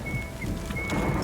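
A rainstorm with thunder in the video game The Witcher 3: steady rain hiss over a low, rolling thunder rumble, with a faint tonal whine running through.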